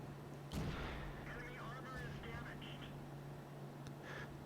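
A tank cannon fires once in the video game World of Tanks, a short, sharp boom early on. Faint, quieter in-game sounds follow at low volume.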